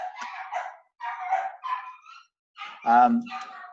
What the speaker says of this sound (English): You'll have to excuse my dog is barking in the background.